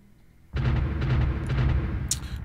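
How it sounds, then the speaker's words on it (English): Artillery fire from fourteen guns in the strategy game Supreme Ruler Ultimate erupts after a brief quiet into a loud, sustained rumbling barrage of overlapping booms, heavy and deep, with no speech. "This time with 14 pieces of artillery."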